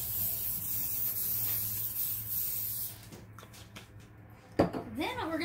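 A steady hissing spray runs for a few seconds, followed by a few light clicks and a brief metallic clatter near the end.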